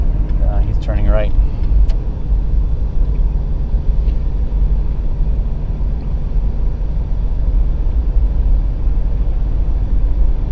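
A car drives through snowy Kansas City streets with a loud, steady engine and road rumble throughout; a voice speaks briefly near the start.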